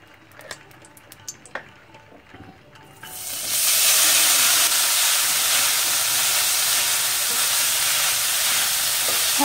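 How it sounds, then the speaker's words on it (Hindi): Khoya hits hot ghee in a kadhai and roasts, bursting into a loud, steady hiss and sizzle that continues unbroken after a few quieter clinks and taps at the start. "अब खोए को भूनेंगे। कढ़ाई में 1 चम्मच घी डालेंगे।"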